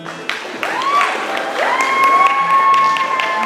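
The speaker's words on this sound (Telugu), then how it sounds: "All these kids need a big applause." Audience applause for the children who sang classical geetams at a NATS Balala Sambaraalu finals at St Mary's Church, a steady crowd clapping with scattered whistles and cheers throughout.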